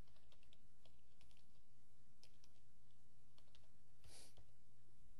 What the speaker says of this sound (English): you're going to type in torrent.